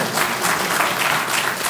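Conference audience applause after a talk on building a Magento team, a brief, even patter of clapping from the room that lasts under two seconds.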